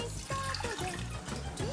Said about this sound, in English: Pour 1 cup of water